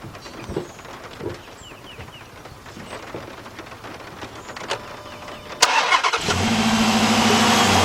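A Chrysler or Dodge car sits outdoors in the rain, with faint patter and a few distant chirps before the engine cranks briefly and catches, then settles into a steady, fairly loud idle.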